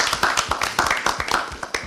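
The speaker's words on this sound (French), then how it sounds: "Je suis avec Hermeline, je voudrais qu'on applaudisse pour elle." A small audience at a jazz performance claps in sparse, uneven, distinct hand claps, fairly near and moderately loud, with no talk over it.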